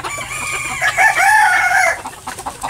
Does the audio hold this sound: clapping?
no